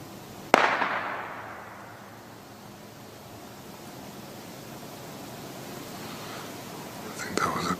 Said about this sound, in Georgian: I think that was a gunshot